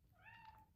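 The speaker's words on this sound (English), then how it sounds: "that was my cat" A house cat lets out a single short meow, faint and fairly close in a quiet room, rising then trailing off, ending in a soft click.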